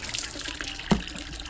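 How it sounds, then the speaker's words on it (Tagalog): Water pours steadily from a household tap, a continuous hissing flow heard up close with a brief knock partway through. "Malakas na pala yung tubig."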